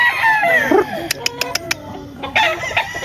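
Super Brown breed chickens on a farm in Bulacan, with a rooster crowing and hens clucking close by, several short sharp calls in a row over faint background noise.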